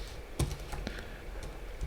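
Typing on a computer keyboard while coding: a few scattered, soft key clicks and taps at an uneven pace, quiet and close, with no talk.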